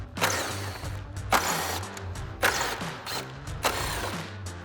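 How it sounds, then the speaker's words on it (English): An impact driver with a 7mm socket backs out the fog light mounting screws on a Jeep Wrangler JL bumper. It makes four short, loud bursts of rattling hammering with brief pauses between them. "We're gonna grab our 7mm socket on our impact and remove the 4 mounting screws."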